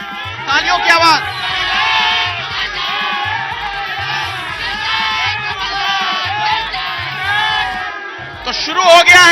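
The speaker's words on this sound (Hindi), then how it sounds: "जोश और जुनून, आवाज, तालियों की आवाज।" An Indore crowd cheering and shouting at a televised election show, loud, dense and continuous roaring with a pounding rhythmic beat underneath, swelling again at the end.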